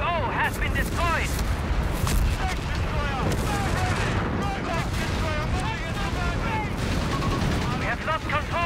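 Dense, continuous gunfire and explosions from a Company of Heroes 3 battle, rapid bursts and booms layered loudly throughout, with game voice callouts mixed in.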